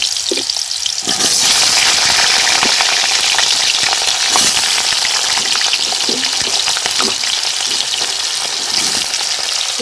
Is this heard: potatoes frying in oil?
yes